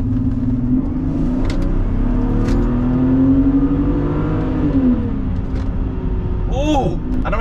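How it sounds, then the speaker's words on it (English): Mercedes W204 inline six-cylinder engine revving in a car, its pitch rising and falling in a smooth sweep over a steady idle rumble, with a brief sharp whine near the end. "a car like this has the W204 Mercedes inline six-cylinder engine"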